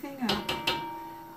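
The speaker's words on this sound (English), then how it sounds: "As soon as I get all the tomato ingredients in the pan, I stir everything up." A utensil stirring tomato sauce ingredients in a pan for lasagna, producing three quick metallic clanks against the pan, close and fairly quiet, with a faint kitchen hum underneath and no talking.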